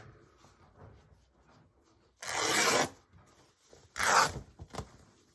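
Fabric strip being cut for a slow stitch pouch, two loud broadband bursts of cutting about a second apart, then a few short softer snips, close to the listener in a quiet room.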